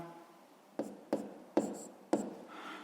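Numbers are written by hand during a fifth-grade math exercise: four distinct scratchy strokes of a pen on paper at uneven intervals, close and quiet, alone without talk.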